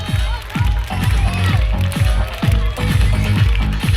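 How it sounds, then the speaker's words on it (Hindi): Loud applause and rhythmic clapping from a crowd at a school silver jubilee cultural program, steady and close with strong repeated beats throughout. "जोरदार तालियां"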